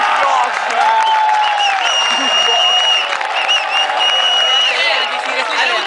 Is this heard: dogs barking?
no